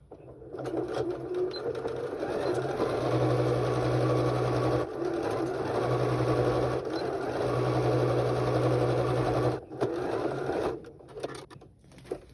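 A sewing machine runs in long steady bursts backstitching over elastic on a fabric mask, with brief pauses where the stitching reverses, the motor's hum close and continuous.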